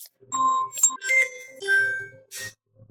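A phone notification chime sounds in a quiet room, a short run of bright, clear electronic tones that rise and fall, then a brief hiss and a faint low tail at the end.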